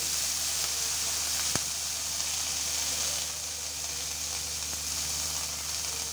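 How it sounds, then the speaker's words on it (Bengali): Onion stalks sizzle in a frying pan after eggplant has been fried, a steady broadband hiss that holds at a moderate level throughout, with one sharp click partway through. "এবার পেঁয়াজ কলি দিয়ে দেবো।"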